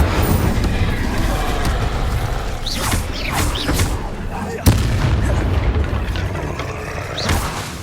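Spell blasts from the Hogwarts Legacy video game, including Confringo and Incendio, sound as repeated booming bursts over a rumbling bed. One sharp crack stands out midway, and shouted voices come in between the hits.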